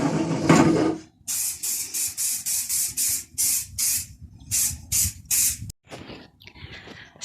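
Rust-Oleum Painter's Touch spray paint going on as a first coat, heard as a rapid series of short hissing bursts from the can, about a dozen close, loud sprays with brief gaps between them.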